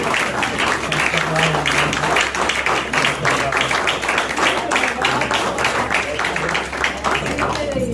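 Dense audience clapping at a mushaira poetry gathering, a continuous busy patter of many hands at moderate level, with some voices mixed in.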